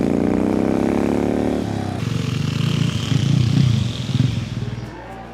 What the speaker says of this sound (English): The exhaust system produced a unique low mechanical tone.